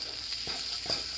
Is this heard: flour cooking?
yes